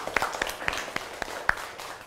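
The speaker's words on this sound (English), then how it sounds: "Clap for yourself." Children in a Year 4 classroom clap for themselves, a few light, uneven claps spread across a couple of seconds, fairly faint and close.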